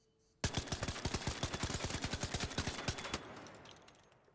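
Rapid automatic gunfire in the video game Arc Raiders, a burst of about thirty evenly spaced shots lasting nearly three seconds, then fading out.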